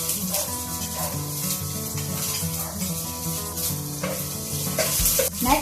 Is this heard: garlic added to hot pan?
yes